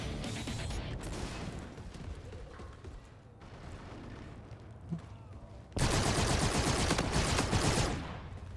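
Rapid automatic light machine gun fire in Call of Duty: Infinite Warfare multiplayer, sustained bursts with a brief lull, then a louder, denser stretch of shooting near the end.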